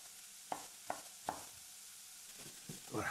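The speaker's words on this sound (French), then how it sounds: "Voilà, je remue, attention, surtout pas que ça colore." Garlic and onion stirred with a spatula in a saucepan, giving a few sharp scraping strokes over a faint sizzle, close and quiet with no talk.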